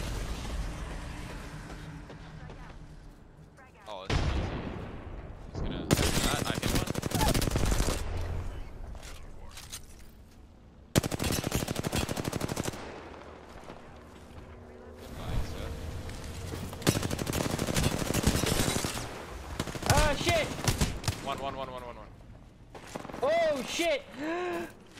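Gunfire in Apex Legends comes as loud bursts of rapid shots in separate stretches, with a short, clipped impact and explosion effects in between. A player talks over parts of the action.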